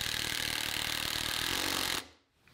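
A power driver sinks 1.75-inch star-drive cabinet screws into the feet of a wooden sawhorse, a close, steady whirring buzz that stops abruptly near the end.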